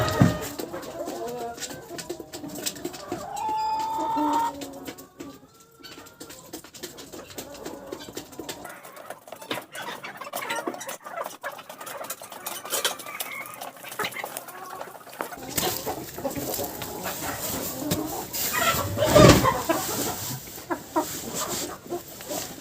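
Cochin chickens cluck and coo in a backyard coop, with bird calls scattered through the scene and some handling noise, fairly close and continuous throughout.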